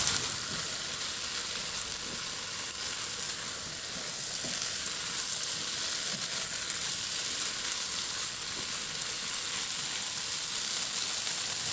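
Pork kasim, simmered until tender, and fried tofu sizzle steadily in a hot pan, a constant dense frying hiss that stays even and fairly quiet with no talking.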